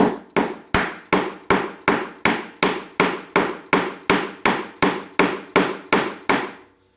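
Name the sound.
striking a 1 inch wide chisel into wood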